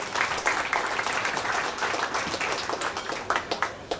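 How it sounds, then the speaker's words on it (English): Audience applause at a Knights of Malta Ecumenical Order investiture ceremony, a steady wash of many hands clapping at moderate level throughout, with a few sharper claps standing out near the end. "A round of applause to all of them."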